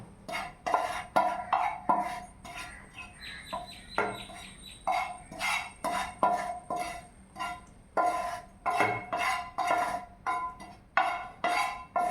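Roasted spice powders being scooped and tipped into a grinder jar, a run of rhythmic, close scraping and clinking strokes of a spoon against metal, repeated steadily without pause.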